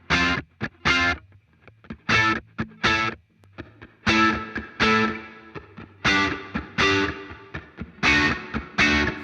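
Heavily distorted modern rock guitars play tight, chugging rhythmic bursts separated by short gaps, loud and upfront in a mix, heard dry without the added reverb effect.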